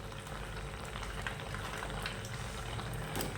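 A tomato curry with meal maker soy chunks bubbles steadily on a high flame, a continuous dense simmering hiss with no voices.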